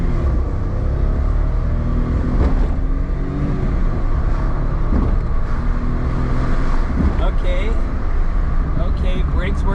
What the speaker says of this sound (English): First time driving a 1999 Suzuki Alto Works.